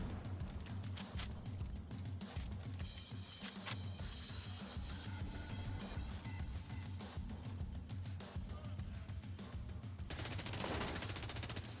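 Gunfire in the video game The Division 2, dense rapid bursts of automatic shots rattling almost continuously, building into a fast sustained volley near the end, fairly quiet overall.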